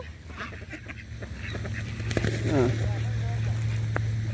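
Excited ducks quack and honk near the listener in a brief burst, with a steady low engine hum and a person talking alongside, in the morning in San Antonio, Texas.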